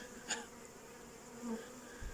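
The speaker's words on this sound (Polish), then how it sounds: "ładna rójka pszczoły" Faint, steady buzzing from a caught swarm of honeybees being moved into a hive, quiet and distant, with a few soft bumps and a brief louder hum partway through.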